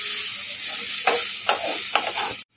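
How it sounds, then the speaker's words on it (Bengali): Capsicum with turmeric and chilli is stirred and fried in a hot pan for a Kolkata-style chicken roll, giving a steady close sizzle broken by three or four sharp scraping strokes of the spatula before it cuts off abruptly. "হলুদ আর লঙ্কাটাকে ভালো করে মিশিয়ে নেব। এমনি ক্যাপসিকাম তো বেশি ভাজতে হয় না"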